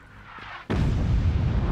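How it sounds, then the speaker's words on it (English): Artillery fire in the video game Generation Zero lands as a sudden loud, close blast after a quiet moment. It then rolls into a sustained deep rumble with no speech. "Got artillery coming in."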